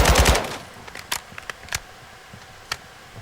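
Machine gun fire in the video game Call of Duty: a loud rapid burst opens, then a few scattered sharp single shots ring out with quiet gaps between them, with no talking.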